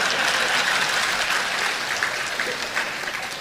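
Steady applause from an audience at a public talk in Melur, the clapping dense and sustained throughout without voices on top.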